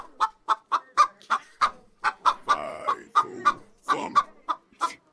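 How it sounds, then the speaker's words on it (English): A hen clucks in a quick, steady series of sharp, close calls, with a few longer drawn-out clucks mixed in, no talking. "he saw the golden hen laying a golden egg"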